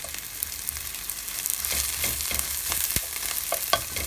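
Onions fry in a pan with broth, giving a continuous loud sizzle with occasional crackles and stirring clicks close by.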